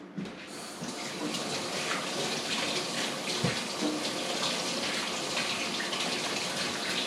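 A tap runs steadily while hands are washed in a kitchen sink, a constant close gush of water with small splashes and shifts, no talk.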